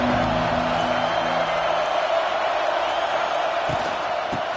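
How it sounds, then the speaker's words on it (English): A dense, roaring football stadium crowd cheers at UCLA vs Notre Dame, a continuous broad wash of noise at steady loudness with faint low tones underneath early on. "This crowd trying to show them what it's going to be like all day in this house."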